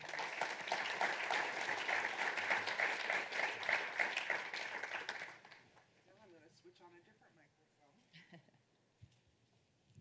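An audience at Notre Dame applauds to welcome panelists, steady loud clapping filling a hall for about five seconds before fading into faint room noise and a few distant voices.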